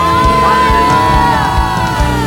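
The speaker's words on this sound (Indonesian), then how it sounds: "Wow, sorakan haleluya." A church congregation cheers and shouts hallelujah together, a loud, sustained wash of massed voices with whoops and yells swelling and holding for a couple of seconds.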